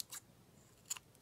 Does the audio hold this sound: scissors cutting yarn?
yes